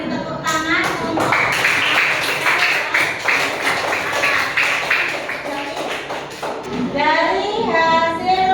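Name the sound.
classroom applause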